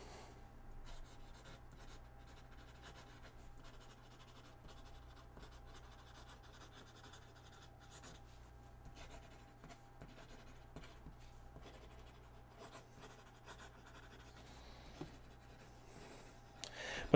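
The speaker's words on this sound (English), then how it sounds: "So I'm usually writing like this." A pen scratches fast and continuously across paper, writing without lifting, quiet and close with steady faint rasping and no voices.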